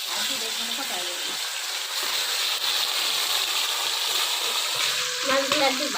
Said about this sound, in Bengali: মাছগুলো একদম ভাজা হয়ে গেছে